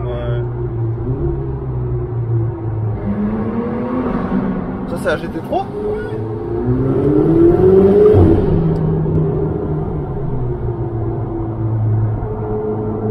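A Porsche GT3 sports car engine revving through a tunnel, a loud droning roar that swells and echoes near the middle, with someone talking over it throughout.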